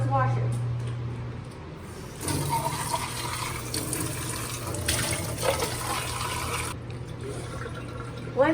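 Tap water runs and splashes steadily into a sink as an empty Spam can is rinsed, a continuous close wash that swells midway before easing off.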